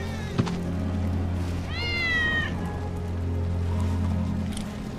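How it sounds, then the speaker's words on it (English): Wedge's cat in Final Fantasy VII Remake gives a single drawn-out meow, fairly close, over a steady low ambient hum with a soft tap just before it. "It's Wedge's cat."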